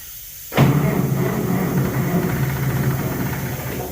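An old John Deere or Farmall tractor cranking and failing to start, with a sudden onset of a steady, droning mechanical churn that runs on without catching, heard close up and with no talk.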